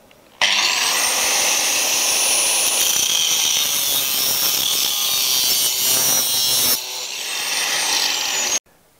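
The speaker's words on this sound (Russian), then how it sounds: "мы ее режем обычной болгаркой, так как она алюминиевая" A handheld angle grinder cuts an aluminium starter strip for siding, a loud, close, high whine that starts abruptly, holds for about eight seconds with a slight dip near the end, then stops sharply.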